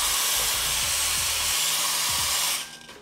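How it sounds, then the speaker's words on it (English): The steam wand of a La Marzocco Linea Mini espresso machine, fed by its rear boiler, hisses in a loud, steady, dry rush of steam that cuts off abruptly near the end, with faint low gurgles beneath. "The steam's really dry because you can really lift up the steam pressure on that rear boiler."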